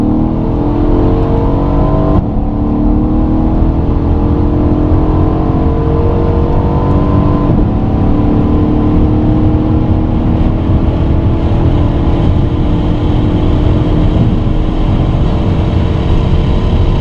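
A Mercedes E63 AMG S engine, rated 736 bhp, pulls hard under sustained acceleration, a loud continuous roar with rising harmonics and a brief dip near the start, heard from inside the car with no talking.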